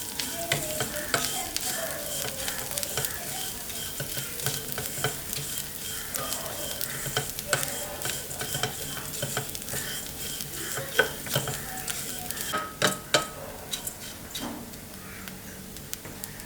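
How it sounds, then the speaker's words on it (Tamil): Thick poha (aval) roasting in ghee in a pan for payasam, a quiet, steady sizzle with frequent scraping and ticking stirs of a utensil, the stirs growing busier toward the end. "அதை நான் நெய்யில் வறுத்துக்கிறேன்."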